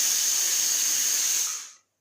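A pressure cooker with rice cooking in milk, in a village home kitchen in Assam, lets out a steady loud hiss of steam that holds, then tapers off and stops after about two seconds.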